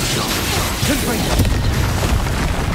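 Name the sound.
Confringo spell blast from the Hogwarts Legacy video game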